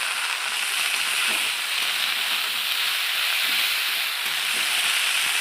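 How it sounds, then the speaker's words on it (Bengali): Potato greens fry in hot oil with a dense, steady sizzle and crackle that continues unbroken throughout, close and fairly loud, with faint stirring underneath and no speech. "এই যে আলুর শাকগুলো দিয়ে দিচ্ছে ভাজার জন্য তেল দিয়ে।"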